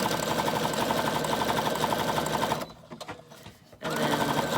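Sewing machine stitching around the edge of a paper tag for a junk journal, a close, steady rapid whir with a brief pause in the middle before the stitching resumes at the same pace.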